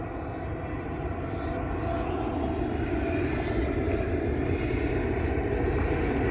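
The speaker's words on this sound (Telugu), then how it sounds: "దుబాయ్ ఫ్లైట్ చాలా కింద నుంచి పోతుంది ఇప్పుడు" A steady, loud aircraft drone fills the whole stretch, a broad low rumble with no break, as a plane bound for Dubai flies low overhead near an island.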